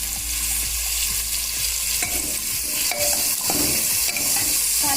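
Chopped onions and medium tomatoes sizzle steadily in a hot pan while a spoon stirs and scrapes them in repeated light clinks and scrapes; the cooking is close, moderate in volume, and no one speaks.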